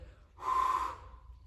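A single sharp, breathy inhale or exhale during a squat exercise, close to the microphone and lasting under a second, set against a quiet room.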